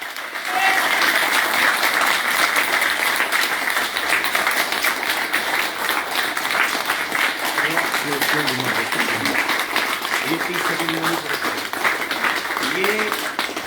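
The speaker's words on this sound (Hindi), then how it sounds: "तालियां अच्छे से बजनी चाहिए, अच्छे से" Sustained loud applause from a large audience at a hospital gathering, dense steady clapping for the full stretch, with some voices and a few whistle-like tones faintly under it.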